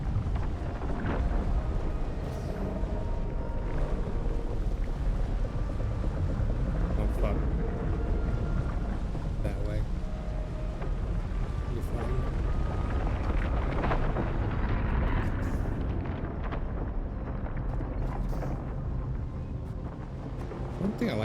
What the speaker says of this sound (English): I like this engine